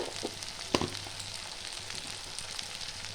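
Whole roasted cumin, coriander, fennel and dried chili spice mix, coarsely ground, frying in a pan for a Bengali chicken dish, giving a steady soft sizzle with a few brief crackles and a light stir, no talking.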